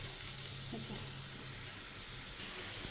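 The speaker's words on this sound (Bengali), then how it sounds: "এইখানে দেখেন পেস্টটা কিন্তু আমার ভাজা হয়ে গেছে, যে আমি এইভাবে ভেজে নিচ্ছি" A soft, continuous sizzle of spice paste with two or three green chillies frying in a pan, low and steady, with a faint stir midway.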